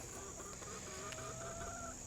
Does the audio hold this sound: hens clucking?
yes